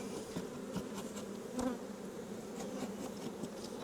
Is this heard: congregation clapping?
no